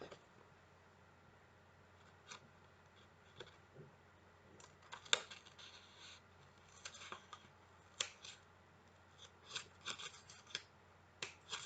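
Scissors cutting paper while folding an origami rabbit, a string of quiet, close snips and rustles in an otherwise hushed room.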